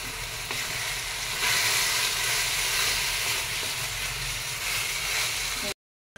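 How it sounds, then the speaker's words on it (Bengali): Onion, ginger and garlic paste sizzles steadily in a hot pan for a Bengali chicken curry, a dense, even frying hiss with occasional stirring before cutting out abruptly near the end. "পেঁয়াজ, আদা, রসুন সেই বাটাটা আমি এখানে দিয়ে দিই।"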